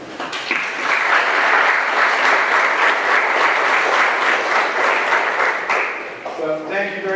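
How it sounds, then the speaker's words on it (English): A school audience at a National Honors Society induction ceremony applauds steadily for the parents, a dense sustained clapping that runs loud for several seconds before tapering off as a voice begins to speak. "I want to give you a round of applause"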